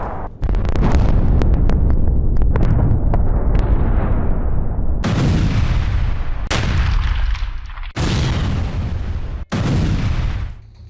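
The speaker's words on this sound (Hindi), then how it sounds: "शपथ के दो घंटे बाद कीव पर रॉकेट की बरसात" Loud missile and rocket explosions strike Kyiv, Ukraine: a rumbling barrage of booms and cracks followed by several separate heavy blasts with brief gaps between them, no voices.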